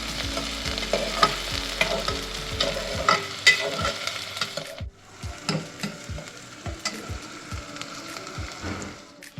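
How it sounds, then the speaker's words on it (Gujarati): Onions sautéing in a pan with cumin, mustard seeds and asafoetida for masala khichdi, a steady close sizzle punctuated by repeated scraping stirs of a spoon, about a dozen strokes, with no voices. "ડુંગળી નાખશું, સરસ મજાની સાતળી લેશું"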